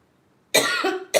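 An adult gives a single loud, close cough, followed by a short second burst at the end, against a near-silent room.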